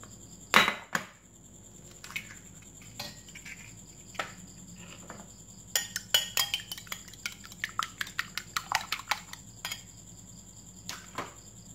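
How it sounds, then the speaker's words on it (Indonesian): Rapid irregular clinking of a utensil against a bowl as chicken eggs are beaten, sparse at first then speeding into a quick tapping run, with no talking. "kita kocok lepas terlebih dahulu telur ayam."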